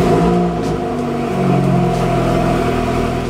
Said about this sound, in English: Please turn your ignition off for 20 seconds and then start the car.